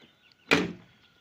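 Rear door of a VAZ Zhiguli car (a 2106-era model) is opened or shut with a single sharp clunk, close and clear in an otherwise quiet space.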